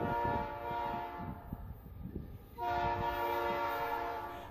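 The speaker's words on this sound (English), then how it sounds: "we saw the train in the far distance" A train rumbles at a distance, its horn sounding in long steady tones that fade briefly and then swell again.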